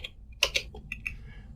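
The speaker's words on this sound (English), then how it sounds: "if I just start typing anything in the Notepad" Typing on a computer keyboard in Notepad: a handful of quick, faint key clicks in irregular rhythm over a quiet background, with no speech.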